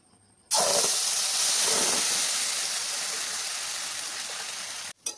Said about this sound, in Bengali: এবার ব্যাটারটাকে দিয়ে দেব।